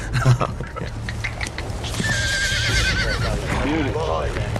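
A horse on a film set whinnies with a rising, wavering neigh over a background of people talking and general set noise.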